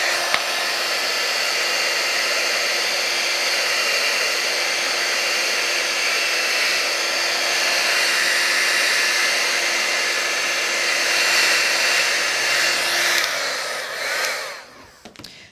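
A heat drying tool blows over ink-coated cardstock in a crafting session, a loud, steady close-up whir that holds almost unbroken for about fourteen seconds before cutting off near the end.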